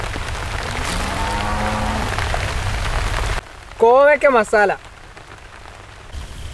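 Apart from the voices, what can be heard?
rain falling during outdoor Onam sadhya serving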